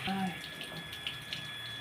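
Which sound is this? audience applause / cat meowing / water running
water running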